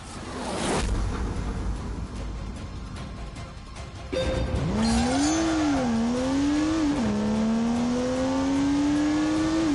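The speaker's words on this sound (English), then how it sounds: "A skitter of wheel spin" A car in The Grand Tour video game spins its wheels at launch: a whooshing burst gives way to a loud, rising engine drone with a wavering pitch that climbs steadily, with no talk.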